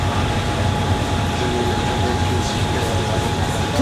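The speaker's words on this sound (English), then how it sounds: "we're on the train, we're moving forward now" Train riding the Death Railway near Kanchanaburi, Thailand, heading toward Namtok; a loud, steady rumble and rattle of the carriages from onboard, with faint voices in the background.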